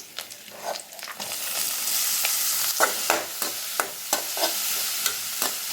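Onions, curry leaves and ginger frying and sizzling in a pan for a Tamil fish fry, with a steady hiss and repeated clinks and scrapes of a spoon stirring, close and continuous without talk.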